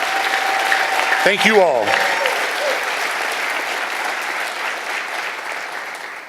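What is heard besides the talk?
audience applause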